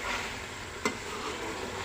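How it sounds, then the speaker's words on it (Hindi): Chicken korma with its spices frying in oil gives a steady close sizzle, with a single soft knock of a spoon or pan partway through. "ये देखें, जब सारे मसाले इसमें शामिल कर दिए थे तो अब इसको भून लिया है हमने अच्छी तरह।"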